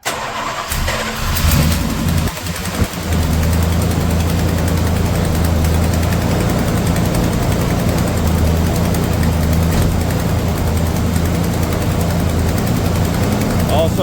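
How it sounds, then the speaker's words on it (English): A Mopar 383 engine with an Edelbrock 1406 carburetor and an exhaust leak cranks and catches, then settles into a loud, steady idle with a rough, uneven exhaust note, close up. "Also, don't mind my exhaust leak."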